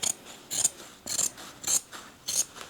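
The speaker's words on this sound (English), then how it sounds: "you can definitely clip the curves around the entire back neckline" Scissors clip into the fabric curves of a dress's back neckline, five or six crisp, evenly spaced snips close up with brief quiet gaps between them.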